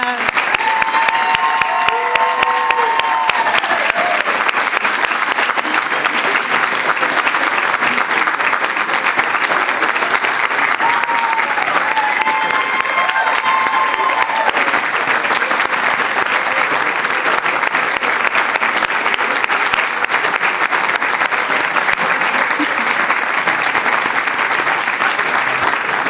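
Sustained, loud applause at a physician assistant certificate ceremony as the standing class claps, a continuous roar of many hands with faint voices and a few cheers mixed in across the whole stretch.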